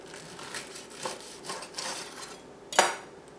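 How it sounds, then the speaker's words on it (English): A knife saws through cooked food on a cutting board in several soft, rasping strokes, ending with one sharper crunchy cut, close by and fairly quiet. "let's just cut into this and I'll show you how nice it is inside"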